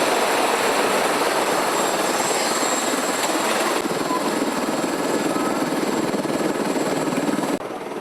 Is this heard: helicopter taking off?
yes